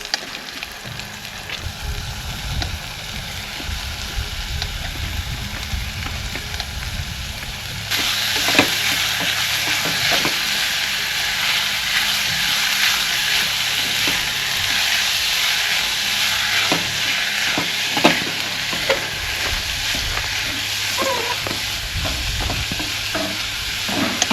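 Paneer frying with masala in a pan, a continuous loud sizzle with repeated scraping and stirring clatter from a utensil, growing brighter and hissier partway through as the pieces go in.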